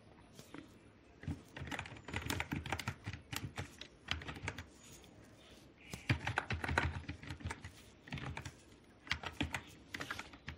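HTML code being typed on a computer keyboard produces rapid bursts of clicky keystrokes, close and fairly quiet, with short pauses between flurries.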